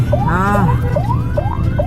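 Ambulance siren heard from inside a moving ambulance in South Tangerang, Indonesia, its rising wail sweeping repeatedly in a steady cycle, loud and close over low engine and road rumble.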